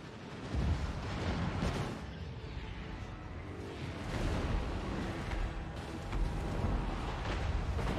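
Dense battle noise in Total War: Warhammer 2 of booming warp lightning cannon fire and rolling explosions, heavy and continuous, with repeated blasts overlapping at a steady, chaotic pace.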